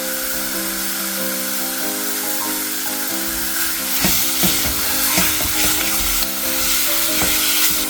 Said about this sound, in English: just toss in your meat in there. Add in about half of your seasonings.